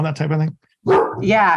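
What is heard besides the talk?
dog barking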